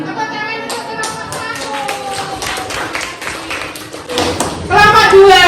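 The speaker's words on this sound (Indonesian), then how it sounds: "Tepuk tangan untuk kelompok" A group claps quickly in a school classroom, the applause overlapping children's voices, then swelling louder toward the end.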